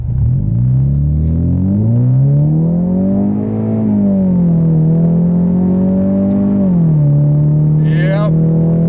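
A 2016 Ford Mustang EcoBoost in regular drive mode accelerates at full throttle, its engine droning loud and close as the pitch climbs steadily, dips briefly at a shift, then holds a strong steady note.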